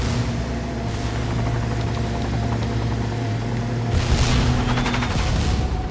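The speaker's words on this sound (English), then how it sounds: "I hear a lot of explosions" Booming explosions in the video game Trials of the Blood Dragon, rumbling continuously under a droning engine, with a louder burst near the end.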